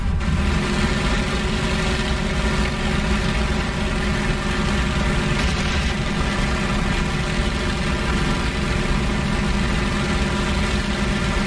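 A WWII fighter plane's piston engine in a combat flight game, throttled back to cool off, drones steadily and loudly for the whole stretch, a dense, even hum with no voices over it.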